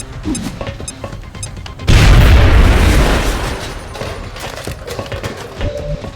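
A frag grenade from XCOM Enemy Within goes off against a strong UFO wall, a single loud, deep boom with a crashing burst that decays over about two seconds, over a steady background bed of game ambience.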